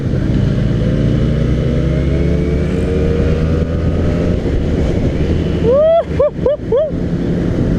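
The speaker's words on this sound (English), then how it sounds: "As usual, the power is late, but the exhaust is killing," A Benelli 600i motorcycle fitted with a modified Ixil exhaust runs loud and close with a steady, droning engine note, then gives several quick, sharp throttle blips near the end.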